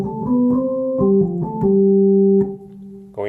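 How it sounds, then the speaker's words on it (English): An organ plays sustained chords, changing notes several times in a short phrase, clear and close with no talking, ending on a held chord that drops off. "Now, comparing to the sound coming from the organ here"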